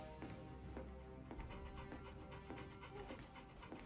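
A dog pants in quick rhythmic breaths with soft whimpers in a Final Fantasy XVI scene, steady and fairly close under a low ambient bed.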